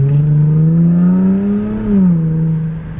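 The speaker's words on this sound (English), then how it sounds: "this is the nicest sounding mufflerless car" Straight-piped Jaguar F-Pace S with its mufflers removed, a loud, steady exhaust drone that swells as the engine revs up, then dips and recovers, heard up close with no talking.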